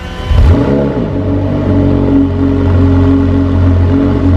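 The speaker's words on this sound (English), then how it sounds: "That's a twin turbo V8, 720 horsepower." A 720-horsepower twin-turbo V8 car engine fires up with a sharp rising bark, then settles into a loud, steady, throbbing idle with deep rumble, close by.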